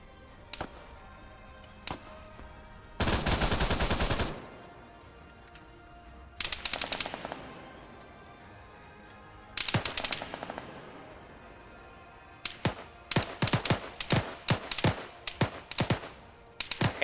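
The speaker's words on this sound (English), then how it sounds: "start letting that HMG go to work" Heavy machine gun fire in a video game set on Taviana, with separate loud bursts and then a quick string of short sharp shots near the end, no talk.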